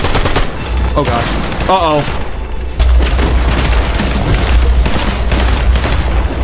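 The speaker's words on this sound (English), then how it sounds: "Bro will not stop shooting at me" Rapid bursts of gunfire ring out in a Fortnite solo match, loud and near and repeating in volleys over a low rumble of in-game noise, while a player talks briefly over it.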